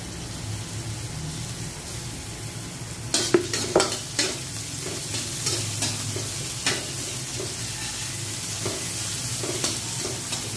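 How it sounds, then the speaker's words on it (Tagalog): Garlic and onions fry in a pan for fish sarsyado, a steady close sizzle with a run of sharp stirring scrapes and knocks in the middle and no talking. "Lalagay na natin yung ating bawang at sibuyas."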